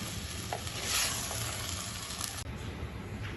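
Carrots, potatoes and peas frying in a pan for a mixed vegetable dish, a continuous crackling sizzle with brief stirring scrapes, close up.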